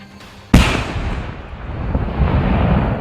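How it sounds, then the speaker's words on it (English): Authorities detonate bomb-making materials found in Harlan: one sharp, loud blast with a long rumbling, rolling tail and echo across open ground. "That's the sound of authorities safely detonating bomb-making materials discovered Wednesday in Harlan."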